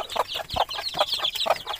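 Young chickens cluck and chirp in a coop in a quick, close run of short, bright calls with no voices.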